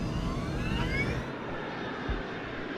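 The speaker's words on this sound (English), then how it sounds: "The crew monitors the speed as they accelerate down the runway." Airliner jet engines roar steadily as the plane accelerates down the runway for a night takeoff on a Malaysia Airlines flight, a loud, continuous cabin-heard rumble with rising whine tones and no voices.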